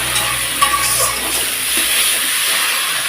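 Spice masala with potatoes sizzles and hisses steadily in a pan while being stirred, a continuous close frying crackle for rohu fish curry, with no one talking.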